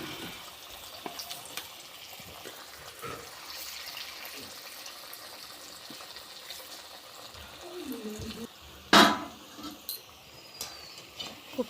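Leafy greens koftas fry in hot oil in a wok with a quiet, even bubbling hiss, broken by a sharp metallic clink near the end and a few lighter taps.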